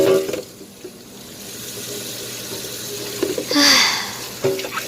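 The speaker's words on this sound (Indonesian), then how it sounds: "untuk tempat sabunnya juga saya cuci ya, takut kan kecipratan minyak. Nah, saya bilas ya" Water runs from a tap as a plastic soap dish is rinsed in a kitchen sink, a steady hissing flow with brief splashes, fairly close.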